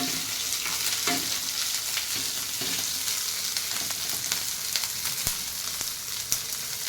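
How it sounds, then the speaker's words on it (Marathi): Chopped onion and green chillies fry in a pan, a steady loud sizzle broken by a few sharper stirring scrapes and clicks up close. "आपण कांदा आणि हिरव्या मिरच्या घेतल्यात मिरवून कांदा असं द्यायचा लालसर"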